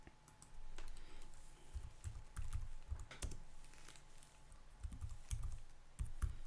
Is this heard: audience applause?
no